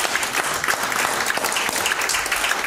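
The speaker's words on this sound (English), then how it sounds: "Give him a hand clap." Church congregation clapping together in a steady, dense burst of hand claps filling a worship space, loud and continuous throughout with no talk over it.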